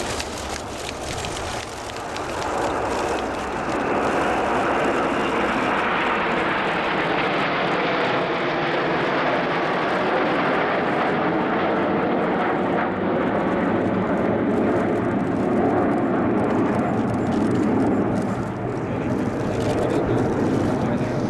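An Avro Vulcan bomber flies at the RIAT 2015 air show. Its deep, rushing jet roar swells in and then holds loud and broad throughout, a sustained thunderous wash with no pauses.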